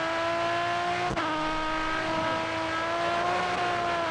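A race car in GRID Autosport drops down to second gear, its engine tone holding steady as a loud, close drone before a brief click of the shift and a settling, lower whine afterwards.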